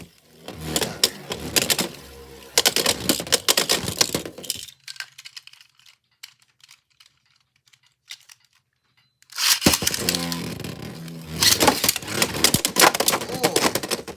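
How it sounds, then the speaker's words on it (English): Beyblade X tops Lightning L-Drago and Xeno Xcalibur are launched into a plastic stadium, heard as loud, dense rattling and clattering bursts with a quiet gap in the middle before the grinding resumes. "I think I'll launch L-Drago first, or try to."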